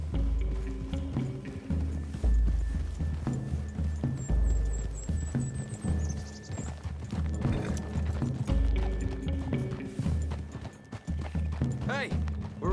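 Horse hooves in the Red Dead Redemption video game, rhythmic clip-clop running through the whole stretch under a game soundtrack and occasional male dialogue, with a brief whinny and higher chiming tones partway through.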